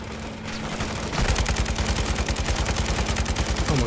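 Rapid automatic gunfire from the Call of Duty video game rattles in a steady, loud, close stream of shots with no voices over it.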